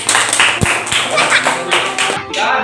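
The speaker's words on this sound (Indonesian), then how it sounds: "dah berikan tepuk tangan untuk kelompok 1" A short burst of clapping from a small group in a classroom, loud and close, with a few sharp claps standing out amid room chatter.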